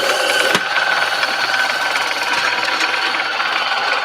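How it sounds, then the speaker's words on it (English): Coffee grinder grinding 18 grams of coffee to a finer setting, a loud, steady whirring and rattling grind that runs unbroken without talk. "All right, so we've got our 18 grams, so I'm going to grind it."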